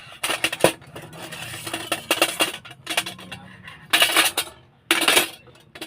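Egg going into a bowl and being mixed with a utensil, sharp clinks and scraping bursts against the bowl in irregular clusters, close and fairly loud, with no talking.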